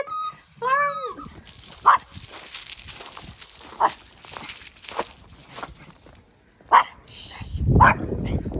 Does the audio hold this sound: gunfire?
no